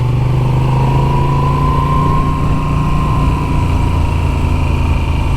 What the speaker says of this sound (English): when you wind them up, they've got a little bit of a sort of idiosyncratic whine